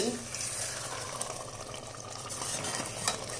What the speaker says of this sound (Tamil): கரண்டியாலே நல்லா அமுக்கி கிண்டி கொடுத்துக்கோங்க.